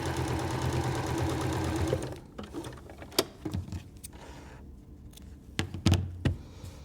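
A sewing machine top stitches a line on a patchwork flower quilt block, running steadily for about two seconds with a close mechanical whir, then giving way to scattered knocks and fabric handling sounds.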